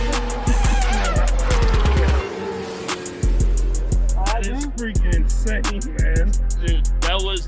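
Race car revving hard and skidding, with loud engine roar, quick gear-shift bursts and squealing tires, close and continuous with brief revving drops.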